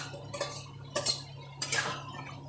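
A utensil stirs potatoes coated in poppy seed paste in a pan, giving a few sparse metallic clinks and taps close by over a faint low hum, with no voices.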